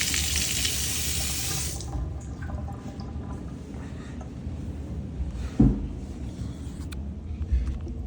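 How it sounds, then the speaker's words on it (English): A bathroom faucet gushes loudly for about two seconds and is then shut off, leaving quiet room tone broken by a single close knock. "this is the bathroom faucet."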